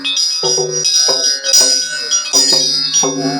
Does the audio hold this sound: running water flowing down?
no